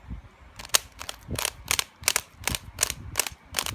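Repeated crisp plastic clicks and snaps, about ten in steady rhythm, close up, as a smooth-turning 3x3 Rubik's cube is twisted quickly.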